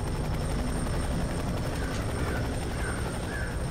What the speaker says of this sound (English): You have to get the helicopter.